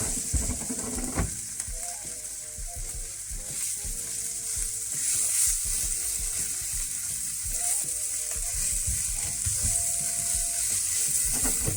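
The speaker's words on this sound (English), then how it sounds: "Okay, we're gonna add our chili in here. Let this saute now." Chili sautéing in a hot pan for a pork stir fry, a continuous close sizzle with scraping and stirring clatter from a utensil, growing slightly louder over time, no voices.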